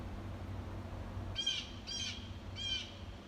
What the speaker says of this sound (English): Unhappy bird.